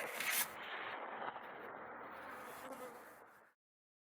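Bees hum faintly and steadily inside a weak, thinly populated hive in a winter bee yard, alongside a scrape of equipment, before the sound cuts out.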